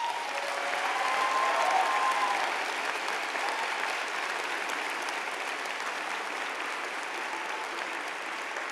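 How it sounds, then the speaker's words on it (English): A large audience at the Highlands Ranch High School 2025 graduation applauds in a sustained, even wash of clapping that peaks early and then holds steady. "Give yourselves a nice round of applause."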